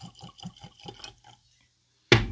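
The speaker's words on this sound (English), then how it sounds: "Let's go ahead and get a pour on." Syndicate 58/6 whiskey is poured from a natural-cork bottle into a glass, making a quick run of soft, close gurgling glugs. A short silence follows, then a sudden loud knock.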